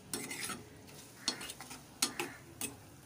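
Masala stirs and fries in a pan with quiet sizzling and a few sharp scrapes and clinks of a spoon against the pan, spaced irregularly and heard close up without talk.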